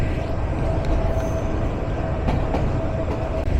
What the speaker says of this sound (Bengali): একটা একটা করে নচ খোলা হচ্ছে আর একটু একটু করে কিন্তু কর্ণফুলীর স্পিড বাড়ছে।